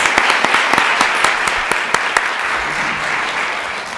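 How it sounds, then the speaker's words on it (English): An audience at a professional legal seminar applauds panelists, a close, dense burst of clapping with a few sharp individual claps standing out early, tapering slightly toward the end. "So I'd like to give a round of applause again to our panelists for the legal expertise"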